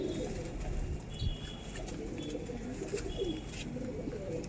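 Pet pigeons of a matched breed coo steadily, a soft, continuous layered murmur of overlapping calls at moderate distance, faint and unbroken, with no voices over it.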